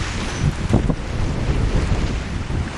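Steady wind roars across the microphone on a sailboat under way in a 12–13 knot, force 4 breeze, a dense continuous rush with a few stronger gusting swells and water washing faintly beneath.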